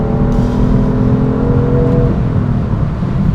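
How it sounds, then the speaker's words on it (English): A car engine revs hard and close, a loud steady roar with deep rumbling and a sustained droning pitch, easing slightly toward the end. "Listen to this thing. Engine wants to go."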